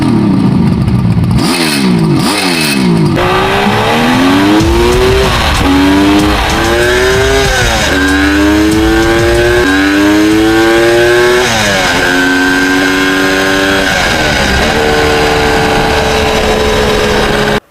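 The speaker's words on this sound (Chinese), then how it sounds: "我们先来听一下发动机声浪。" A Kawasaki H2 750 Mach two-stroke motorcycle revs loudly and close, its engine pitch climbing and dropping repeatedly through a long run of throttle blips with no talk.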